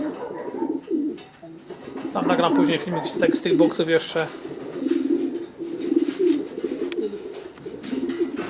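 Breeding pigeons cooing in their boxes, a steady low throaty purr from several birds close by, running under a voice speaking over most of it.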